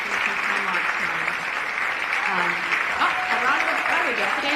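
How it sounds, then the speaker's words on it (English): Audience applause breaks into a standing ovation at a Moms for America town hall in Philadelphia: dense, steady clapping that stays loud throughout, with a voice faintly audible beneath it. "A round of applause. There we go. Standing ovation."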